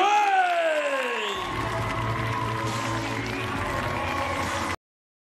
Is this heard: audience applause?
yes